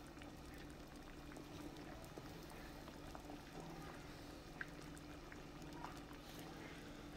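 Water at a soft near-boil in a pot on a gas stove, a steady low bubbling simmer with faint, continuous churning throughout.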